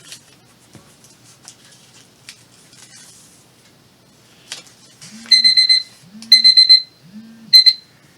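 A phone alarm goes off in a quiet room: three loud, evenly spaced bursts of rapid electronic beeping after some faint rustling and small handling sounds.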